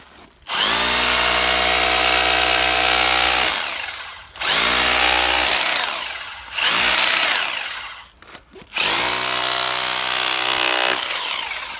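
A Mächtz MRH-1170S rotary hammer breaking stones runs loudly in four long bursts, a harsh grinding, pounding drone with brief pauses between, very close.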